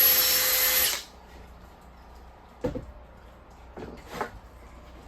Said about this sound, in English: you want to pre-drill them, you can pre-drill a couple of holes